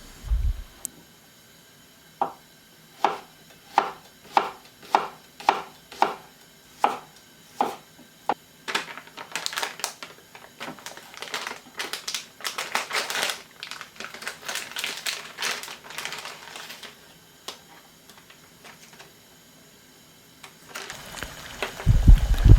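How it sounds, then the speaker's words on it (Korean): A knife chops green onion on a cutting board, first in slow, evenly spaced knocks, then in a fast, dense run of rapid slicing, ending with a louder clatter. "먼저 파를 송송 썰어줍니다."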